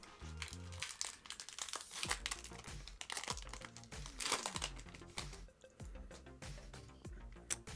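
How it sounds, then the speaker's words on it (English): Foil Disney Lorcana trading card packs are crinkled and torn open up close, a dense run of crackling, rustling and ripping with sharp crisp bursts throughout and no voices. "we've got a bunch of packs of cards to open here"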